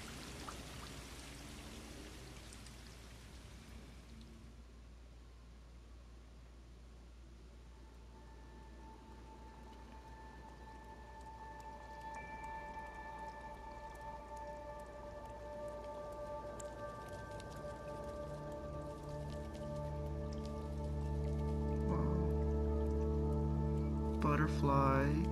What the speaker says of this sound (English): Wait for the rain to go away.